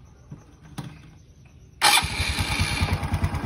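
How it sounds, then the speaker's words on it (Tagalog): An XRM 125 motorcycle engine cranks and catches at once, then settles into a steady, close, throbbing idle after a few quiet clicks and taps. "Pagka binuhay nyo yung motor"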